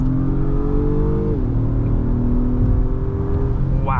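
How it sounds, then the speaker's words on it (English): A 2022 Acura MDX Type S with its 3-liter turbo engine accelerates hard in Sport Plus, heard from inside as a loud, steady drone whose pitch holds, dips briefly at a shift, then climbs again. "we are going to gun it right now"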